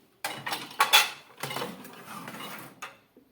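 Sterilized glass jars clinking and knocking together as they are handled for packing pickled red peppers in vinegar, a series of sharp close clatters and taps in quick bursts, with no talking.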